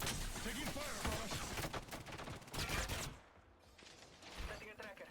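Rapid gunfire bursts crackle through an Apex Legends firefight, dense and loud for about three seconds before easing into quieter game sounds, with a voice heard faintly in the mix.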